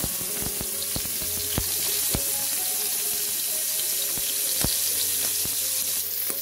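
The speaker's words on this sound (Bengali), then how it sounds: "মাছের মাথাটা ভাজা হচ্ছে।" A fish head coated in turmeric and red chili powder fries in a pan with a continuous close hiss, punctuated by sharp spitting pops and crackles scattered unevenly across the few seconds.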